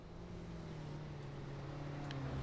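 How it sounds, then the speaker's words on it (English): Steady low engine drone of a car in a battle royale video game, a constant hum at moderate level running throughout without talk. "I can hear a car."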